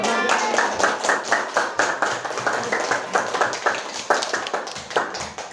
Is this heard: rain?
no